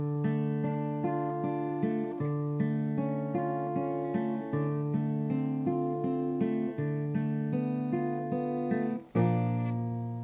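An acoustic guitar plays the intro lick of Time in a Bottle as a steady, rolling fingerpicked pattern of ringing notes over repeated bass tones, clear and close, finishing with a strummed chord and no talking.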